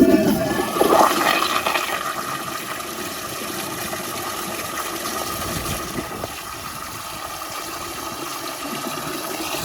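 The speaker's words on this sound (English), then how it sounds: "I'm gonna see if it can flush a washcloth as a ball." A Toto CT705 toilet flushes a balled-up washcloth, opening with a loud gushing rush of water that settles into a steady swirling drain and refill hiss lasting several seconds, with no talking.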